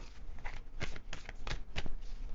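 Tarot cards being shuffled in quick bursts, a few sharp riffling snaps over a soft papery rustle, close up and with no talking.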